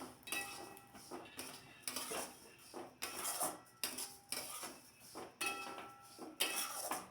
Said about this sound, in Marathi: तेल घातलं की जिरे पटकन भाजले जातात